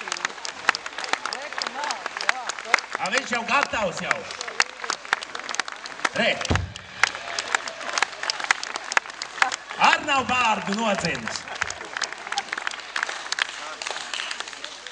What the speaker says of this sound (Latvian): Ar aplausiem sagaidām Edgars no Trapenes.